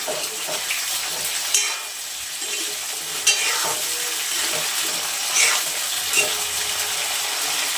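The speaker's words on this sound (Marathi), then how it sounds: "फ्लॉवर व्यवस्थित असा तळून घ्यायचा." Cauliflower florets fry in hot oil with a steady, close sizzle, broken every second or two by the scrape and clatter of stirring; no voices.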